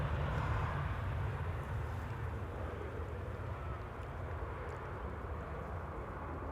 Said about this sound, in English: KLM 737 with a carrying cabin as well. A little bit of reversers being deployed.